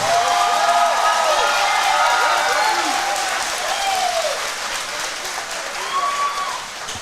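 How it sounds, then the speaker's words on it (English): Crowd applause at a boxing fight night, a dense steady clapping wash with scattered cheers while an announcer's amplified voice carries over it throughout. "big round of applause for both of these outstanding fighters."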